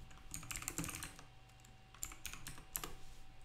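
Code is typed on a computer keyboard at close range, quiet clusters of key clicks in irregular bursts with short pauses between them.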